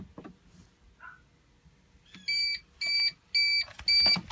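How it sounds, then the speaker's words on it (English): Four evenly spaced electronic beeps from an uninterruptible power supply, high and steady, sound after a quiet stretch with faint clicks as it is unplugged. "uninterruptible power supply beep."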